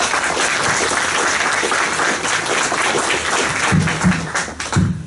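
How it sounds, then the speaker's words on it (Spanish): Loud, sustained applause from a conference audience fills the room with dense, steady clapping that continues throughout, with a few sharper individual claps standing out near the end. "Fuertes palmas, por favor."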